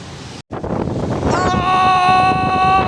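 A powerful wind roars and buffets the microphone by the sea at Da Nang, Vietnam, bending palm trees, with surf rumbling beneath and a high whistling tone rising partway through.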